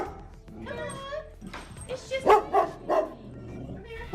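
Chip, a service dog, barks and whimpers near the listener in short yelping bursts, with people talking over and between the sounds in a home room.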